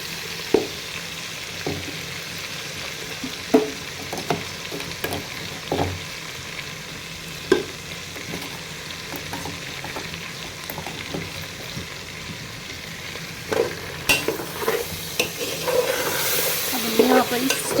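Tomato, ginger, garlic and green chilli masala frying in a pan with a soft steady sizzle, a spoon stirring and tapping at intervals, and the crackle swelling louder toward the end.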